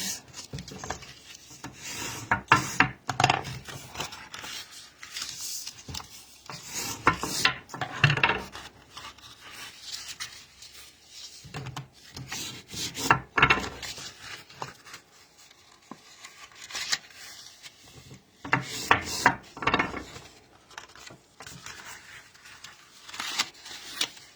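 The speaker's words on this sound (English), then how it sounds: "I'm going to go ahead and burnish these lines before I do any cutting." Score lines on paper are burnished while making a card box, giving close, dry rasping rubs in repeated bursts of strokes with short pauses between them and no talk.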